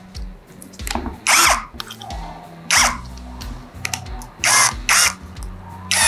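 Xenon CDID1845 18V cordless impact drill driving a screwdriver bit, several loud bursts of whirring and impact clatter separated by brief clicks and handling noise, close up with no talk.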